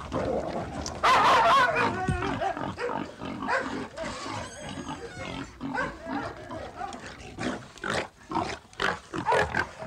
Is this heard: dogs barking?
yes